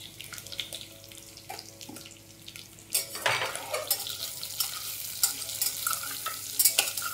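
Onion pieces sizzling in oil in a home kitchen pan while being stirred, a steady close frying hiss that grows louder and brighter partway through, with scraping and clinking of the spoon.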